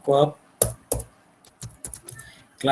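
Several short clicks and taps on a computer keyboard as a command is typed, brief and close, with a voice speaking before and after.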